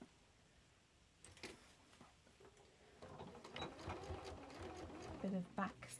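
A sewing machine back stitches through three fabric layers of a bag, its rapid mechanical stitching bursts starting after a quiet moment and growing louder and busier, with a voice talking nearby.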